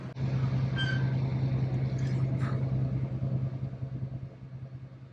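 An L5P Duramax diesel pickup truck drives along with a steady low engine drone and road rumble, heard up close from inside, with faint rattles.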